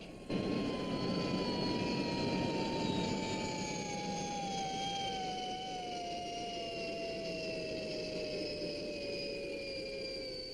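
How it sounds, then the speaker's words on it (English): Spaceship retro rockets firing during a landing in a puppet TV series, a sustained loud roaring rush with a whining tone that slowly falls in pitch, unbroken and alone. "Throttle back. Steady. Downward thrust retros. Easy."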